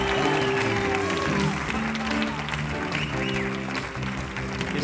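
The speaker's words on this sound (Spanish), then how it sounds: "Un fort aplaudiment." A crowd applauds warmly at a concert, steady clapping that stays loud throughout with a few voices mixed in over music in the background.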